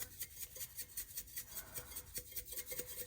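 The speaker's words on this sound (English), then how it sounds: "I think I need to refill my pepper. It sounds a little crazy." Steady gritty rasping of a pepper grinder running low on peppercorns, a continuous scratchy crunch with a slight rhythmic pulse, close and fairly quiet, no voices.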